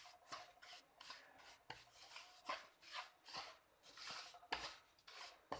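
Metal spoon scraping and stirring semolina as it roasts in a pan, repeated rasping strokes in a loose steady rhythm, close and fairly quiet, with no talk.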